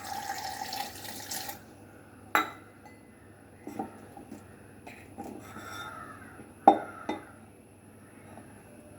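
Water is poured over cut mosambi (sweet lime) pieces in a kitchen: a short rushing pour at the start, then scattered light glass and dish clinks at a moderate distance.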